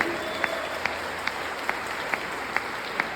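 Church congregation clapping, a steady wash of applause with faint sharper claps standing out now and then, moderately quiet and continuous throughout.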